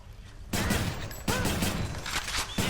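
Gunshots from a weapon in the game Hades, three or four heavy single blasts spaced about a second apart, each with a ringing tail, fairly close over a quiet background.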